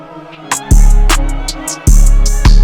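Dark trap beat from FL Studio with a loud booming 808 bass and sharp hits over a brooding melody, heavy and close, with no talking.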